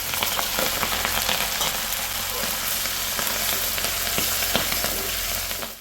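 Chopped kanthari chillies and green chillies fry hard in hot oil in a clay pot for a bilimbi pickle, a loud, steady, dense sizzle with small crackles running alone throughout.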